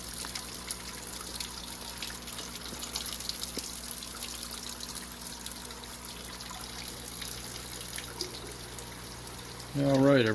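Water steadily draining out of a cloudy New World aquarium during a water change, a continuous faint trickle and splash with a soft, even wash of noise, ending with a louder burst of low rumbling noise.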